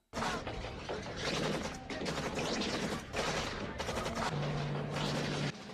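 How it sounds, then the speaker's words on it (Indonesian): In an action film, rapid, dense gunfire crackles nonstop through a loud, chaotic exchange of shots, with a low steady tone beneath near the end. "adu tembakan pun terjadi di sana"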